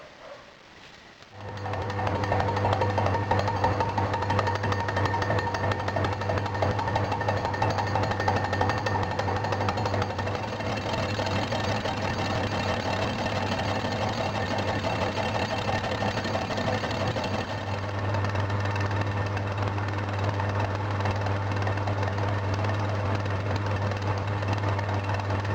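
Lathe machining the back face of a large iron casting, with a steady, loud mechanical hum and vibrating chatter that starts up and runs continuously throughout, and no speech.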